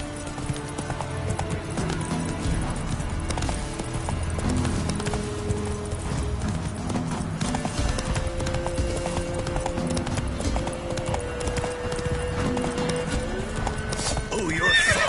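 Steady clip-clop of Roach's hooves at a gallop with repeated neighing and whinnying, loud and continuous, from the Witcher 3 video game on PS5, with someone talking over the game sound.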